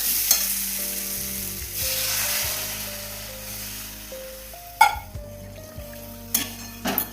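Water poured into a pan of sizzling fried spices for a Bengali fish curry, a hissing surge followed by settling bubbling and a few metallic clinks of a utensil against the pan, no voices.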